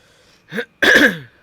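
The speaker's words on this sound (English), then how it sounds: "Sorry for the cough." A single throaty cough or throat-clearing burst, close and fairly loud, preceded by a brief softer catch of breath, then quiet.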